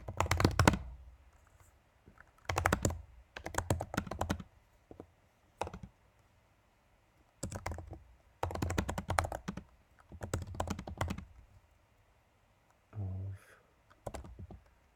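Bursts of rapid typing on a computer keyboard while writing a blog post, clustered clacking keystrokes separated by pauses, close and clear with no talking.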